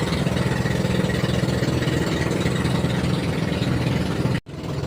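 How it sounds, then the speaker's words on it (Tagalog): A fishing boat's engine runs slowly at sea with a loud, steady low chugging drone that holds throughout, then drops out abruptly near the end before returning. "Dahan-dahan lang yung takbo ng makina."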